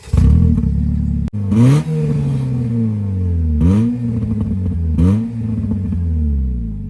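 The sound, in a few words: Nissan Versa 1.8 liter engine revving, no catalytic converter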